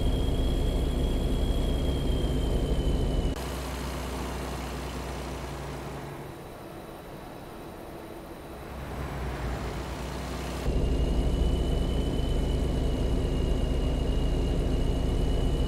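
A truck engine idles steadily in a trucking simulator game set in Oregon, a continuous low rumble with a faint whine that drops away in the middle and then returns at full level.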